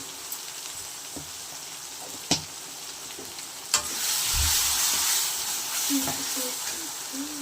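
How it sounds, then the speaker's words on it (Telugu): Ginger garlic paste frying in a pan with steady hiss and sizzle, a few sharp clinks as turmeric is added and stirred in, growing louder midway, with a voice talking over it. "చూడండి అల్లం వెల్లుల్లి పేస్ట్ కూడా బాగా వేగిపోయింది ఇప్పుడు దీంట్లోకి కొద్దిగా పసుపు యాడ్ చేద్దాం"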